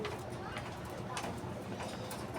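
Racing pigeons coo softly under a dense bed of rustling and fluttering noise, several low calls overlapping close by in a loft at night.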